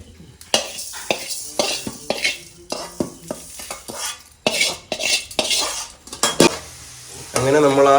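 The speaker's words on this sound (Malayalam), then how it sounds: "എണ്ണയിലേക്ക് പിന്നെ വെളുത്തുള്ളി ഇട്ടിട്ടുണ്ട് അപ്പോൾ വെളുത്തുള്ളിയാണ് ഇങ്ങനെ ഈ മൂത്ത് പതയുന്നത്" Garlic fries in oil in a large pot for wedding-house cooking, a bubbling sizzle under frequent metal scraping and clanking from a ladle being stirred.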